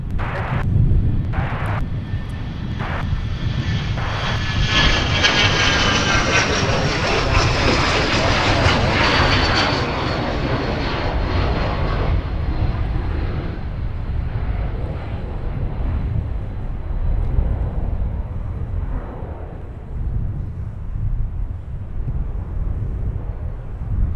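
A jet airliner roars down runway 30 left at MSP on takeoff, a broad, loud rushing thrust that builds and peaks, then slowly recedes into a fading distant rumble, with no talking.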